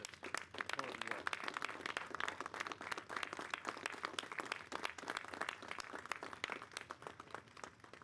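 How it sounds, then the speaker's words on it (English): People applaud EMS workers at an FDNY EMS station, a quiet, sustained patter of hand claps lasting several seconds at a modest distance. "I'd just like to ask the folks in the first row with me to turn around and applaud these yes. individuals"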